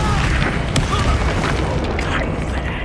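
The Expulso blast spell in Hogwarts Legacy goes off with a loud booming burst, followed by crackling and rumbling debris over busy game sound, with a voice speaking over it.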